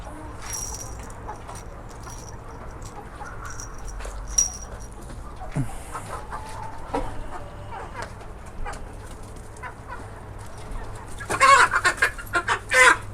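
Chickens cluck and chatter in a farmyard while being caught for leg banding, with a few sharper calls and a short burst of louder squawking near the end.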